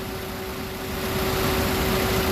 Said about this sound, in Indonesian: Pastikan bahwa suara mesinnya itu halus.